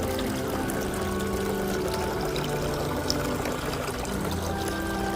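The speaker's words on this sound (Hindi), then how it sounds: "फुली ऑटोमेटेड पानी आ रहा है।" An automated decorative fountain with lighting and plants runs continuously, its water pouring and splashing in a steady, even wash with no pauses.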